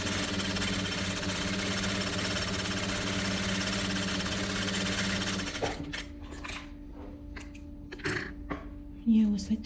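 An electric sewing machine runs in a steady, loud stitching drone as it sews a folded edge of a women's vest, then stops; quieter handling sounds and brief talk follow.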